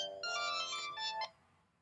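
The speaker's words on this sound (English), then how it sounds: "I've got a phone call coming in here" A phone ringtone for an incoming call plays alone, a bright electronic melody in quick repeated tones lasting just over a second before cutting off, moderately loud and close.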